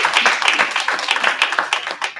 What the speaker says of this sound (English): Please round of applause for everybody.